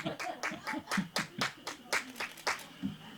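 A small audience claps in welcome for poet Oh Min-seok at a literary talk concert, a light, sparse run of separate handclaps with a gentle rhythm, fairly close and modest in volume.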